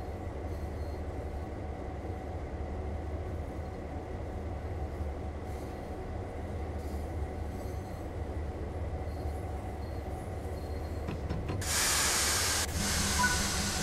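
A Clinchfield F7 diesel locomotive in Train Sim World creeps forward with a low steady rumble and hiss, then a loud burst of hissing air near the end.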